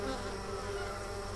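Honey bees from a newly hived swarm hum around the hive entrance, a faint continuous buzzing drone close by with no voices.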